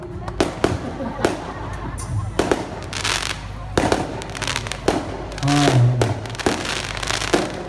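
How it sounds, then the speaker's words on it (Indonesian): Fireworks burst at a Kubu Raya anniversary celebration, a loud run of sharp cracks and booms at irregular intervals, with crowd noise and people talking underneath. "Ini namanya kembang api Suraya"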